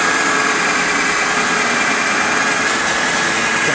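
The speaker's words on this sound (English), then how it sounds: "So I just have a wire wheel on the drill, and we're just going to kind of cram it up in here." A drill spinning a wire wheel grinds against the metal of a door jamb on a GTO restomod during epoxy prep, a loud continuous harsh whir and scrape close up, with no talk.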